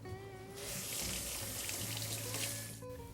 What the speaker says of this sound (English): Always gotta wash your hands.